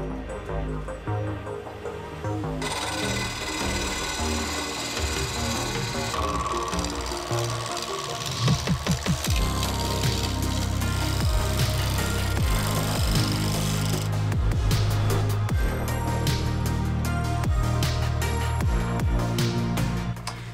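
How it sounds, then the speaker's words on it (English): Chisel cutting away excess wood from a woodworking puzzle piece, a series of sharp knocking and scraping strokes with a denser burst of rapid tapping in the middle, close and fairly loud with no talk. "So I probably just chisel away all the excess."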